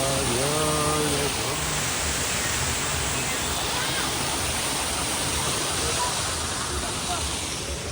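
Loud, continuous rush of flowing water at Dada pass near Chikmagalur, steady and close, with a voice briefly heard at the start.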